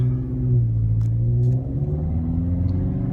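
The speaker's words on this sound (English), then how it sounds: "notice my exhaust tone, that's with the muffler delete" A Subaru Crosstrek engine with a loud, raspy muffler-delete exhaust revs and drones nearby, rising in pitch, then settling into a rumbling growl.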